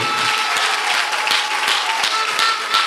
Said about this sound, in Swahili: Ongeza tena makofi kwa Bwana Yesu